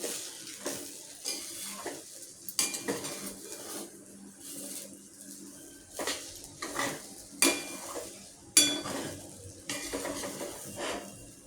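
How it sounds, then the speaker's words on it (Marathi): Cooked rava upma being stirred in a pot, irregular scrapes and metallic clinks of a spoon against the pot wall, close and fairly quiet, with soft thick mushy shuffling between the strokes. "आता मी याला हलवून घेते"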